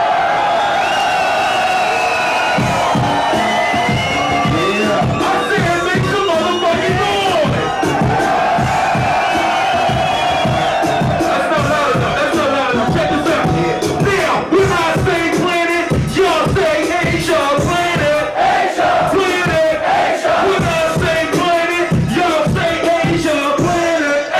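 A live hip-hop concert crowd roars, cheers and shouts loudly and continuously, close and dense, with whoops and yells rising over the din.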